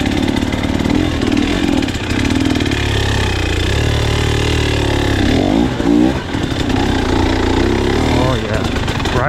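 A KTM 300 XC-W enduro motorcycle engine revs hard and steadily on a slick off-road trail, its buzzing two-stroke drone close and loud, with pitch rising and dipping around the middle as it accelerates.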